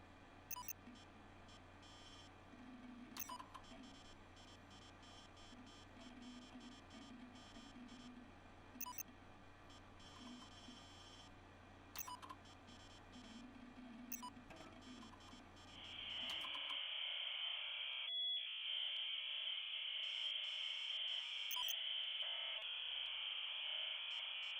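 Harsh old-terminal-style menu tone from the game SUPERHOT, a steady shrill high buzz that comes on abruptly after a stretch of quieter ticking clicks with a low hum beneath, then holds loud and unbroken.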